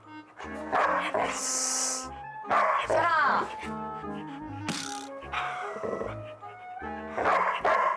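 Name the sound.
dog barking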